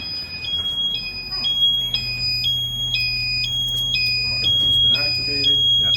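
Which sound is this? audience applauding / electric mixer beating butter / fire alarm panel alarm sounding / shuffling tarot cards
fire alarm panel alarm sounding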